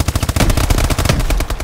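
Call of Duty gunfire rattles out as rapid, evenly spaced automatic shots, loud and close, in a continuous burst with only brief gaps and no voices.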